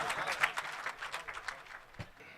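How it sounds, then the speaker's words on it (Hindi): A mushaira audience in Nagpur claps in welcome, a thin, fairly faint scatter of applause that fades out within about two seconds. "पुरजोर तालियों से उनका इस्तकबाल।"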